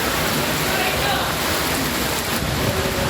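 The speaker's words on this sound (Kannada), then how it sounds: "ಹಲವು ಭಾಗಗಳಲ್ಲಿ ಭಾರೀ ಮಳೆಯಾಗಿ ಟ್ರಾಫಿಕ್ ಜಾಮ್ ಉಂಟಾಗಿತ್ತು" Heavy rain pours down over Bengaluru in a dense, unbroken roar that stays loud and even throughout.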